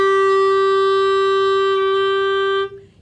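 A clarinet holds a single clear, steady A for about two and a half seconds before it stops, leaving near silence.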